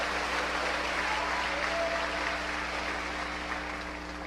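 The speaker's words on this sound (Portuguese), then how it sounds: "glória a Deus, aplaudir ao Senhor?" A church congregation applauds in a dense, even wash of clapping that holds steady and then slightly fades, with a low hum running underneath.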